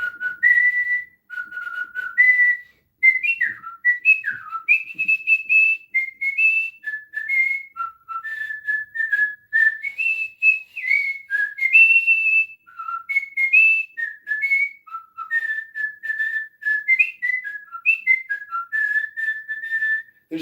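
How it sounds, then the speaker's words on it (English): A man whistles the reveille bugle call alone, a clear melodic line of tones and quick runs held steady for about twenty seconds with short breaths between phrases. "That was me whistling revelry."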